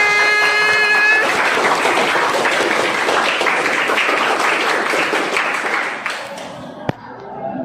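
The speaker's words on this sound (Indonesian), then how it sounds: "Tepuk tangan buat 8M" School classroom audience bursts into applause, a full, lively clatter of many hands that rises quickly, holds for several seconds, then thins out with a sharp knock near the end.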